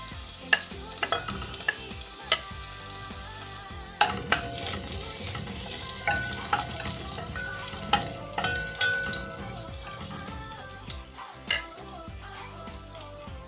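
Garlic drops into hot olive oil for a mung bean stew and sizzles steadily. Clinks and scraping stirs sound now and then above the constant frying hiss, with no voice.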